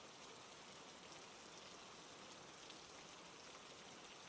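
Steady rain falling on a surface, a dense, even patter of drops that continues unbroken at a soft, constant level with no voices.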